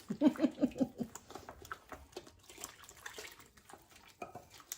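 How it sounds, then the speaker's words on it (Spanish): Water poured from cups into a pot for Honduran pork tamale dough in a home kitchen: a short burst of splashing and gurgling pouring at the start, then faint scattered patter and handling noises, quiet and close. "Ya van 3 tazas de agua."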